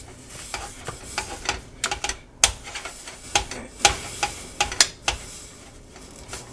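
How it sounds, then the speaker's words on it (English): Hamburger meat for taco soup is broken apart in a skillet, with irregular sharp scrapes and clicks of the utensil against the pan over a faint background sizzle. "I always put my hamburger meat in the skillet and break it apart"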